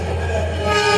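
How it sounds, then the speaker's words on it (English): MTA subway service train sounding a loud sustained horn-like tone over low rail rumble, brief and close. "That's a service train."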